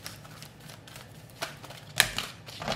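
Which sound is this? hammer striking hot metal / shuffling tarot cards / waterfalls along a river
shuffling tarot cards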